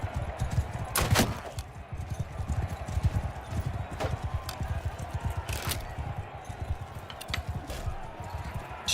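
Horses' hooves clip-clop in a steady galloping rhythm throughout the Mount & Blade II: Bannerlord video game, with a few sharp clanks and jangles over the constant hoofbeats.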